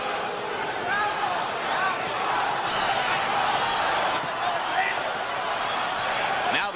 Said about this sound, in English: Now the crowd chants, Oscar, Oscar, Oscar.